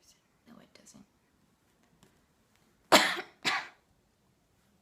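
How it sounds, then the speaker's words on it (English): Two harsh coughs come close together, loud and near, after a stretch of faint throat noises and quiet breathing in a small room. "I apologize for the coughing."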